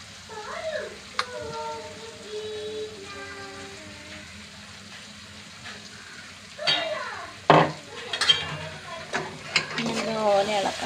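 Ginger-garlic paste and curry leaves are stirred in a pan for chicken curry. A quiet start with voice-like tones gives way to bursts of spluttering sizzle and scraping stirs that grow louder toward the end.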